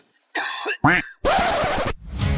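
A few sharp, close coughs in quick succession, harsh and loud, with brief pauses between them.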